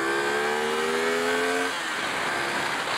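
A 2023 CFMoto 450SS motorcycle engine revs up after a downshift of two gears, a rising high-pitched wail that climbs steadily and then gives way to a rushing, throaty roar at speed, loud and close.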